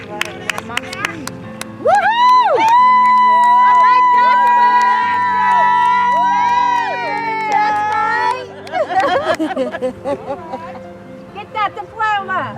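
A graduation ceremony crowd cheers and screams in bursts, loud and close, with whoops and excited voices layered over a sustained tonal hum. Someone speaks over the noise at times.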